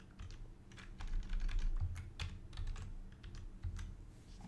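Steady typing on a computer keyboard, quick close key clicks with a few louder taps, alone and fairly quiet.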